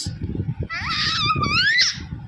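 A young child lets out a high, wavering scream on request, rising and falling for about a second over steady low background rumble and clatter.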